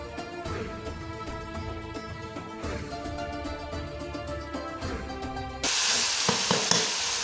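Mutton hits hot oil with light-browned onions in a pressure cooker for degi-style white mutton pulao, and a loud sudden sizzle and hiss swell up near the end after a quieter stretch of cooking noise.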